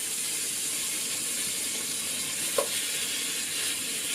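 Beef sizzling steadily in smoking hot oil for a sinigang, a constant bright frying hiss with one faint tap partway through, no talking.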